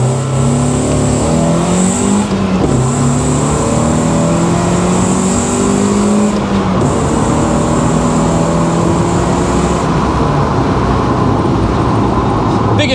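A Mazda MX-5 1.8 engine revs hard and climbs through gears during a 0-60 mph run, loud and close, with repeated rising pitch sweeps and brief shift pauses throughout.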